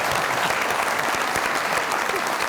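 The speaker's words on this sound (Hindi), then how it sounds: "बहुत सारी तालियां हिना के लिए।" Studio audience at a television comedy talk show breaks into continuous, dense applause for a guest named Hina, loud and even throughout with no pause.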